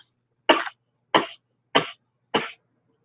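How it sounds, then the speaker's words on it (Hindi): Four short, sharp coughs in a steady rhythm, each a burst about a quarter second long, close by with silence between. "ऐसा छुप के खांसता है ना"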